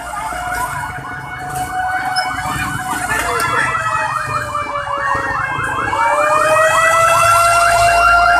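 A fire truck siren wails as the engine arrives at a burning house in a residential neighborhood, its rising and falling cycles growing steadily louder and closer, with faint background noise beneath.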